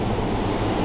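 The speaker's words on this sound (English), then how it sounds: "Sorry about the noise, that's the hood system." A restaurant kitchen hood ventilation system running over the grill and fryers, giving a loud, constant broadband roar like rushing air that fills the whole moment without change.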